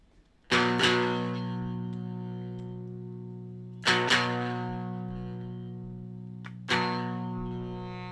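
An electric guitar plays through a homemade Ruby amplifier with distortion, with three strummed chords each ringing out and slowly decaying, the first and loudest held longest, with no talk.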